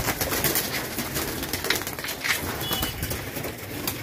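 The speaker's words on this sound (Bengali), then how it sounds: "সব পায়রা বেরোচ্ছে এখন" Pigeons released from a loft at a pigeon farm in Nabadwip, soft cooing calls mixed with faint wing flutter and outdoor background noise, moderately quiet with no talk.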